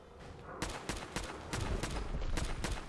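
Gunfire from a boss fight in Fallout 4, with a string of sharp, loud shots in bursts over steady battle noise, the rhythm quickening toward the end.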